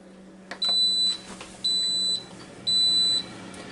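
An Instant Pot Duo Crisp air fryer gives three evenly spaced, clear electronic beeps, each about half a second long, over a low steady hum as it starts.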